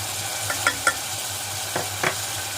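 Whole cumin, salt and garam masala hit a hot pan over high heat, giving a soft steady sizzle punctuated by a few light scraping stirs.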